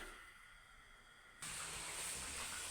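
Chebureki pastries are laid into a frying pan, and a loud, steady sizzling hiss starts abruptly halfway through, following a quieter stretch of low background noise.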